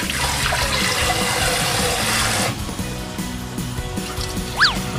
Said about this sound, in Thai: ล้างข้าวทุกครั้งเวลาหุง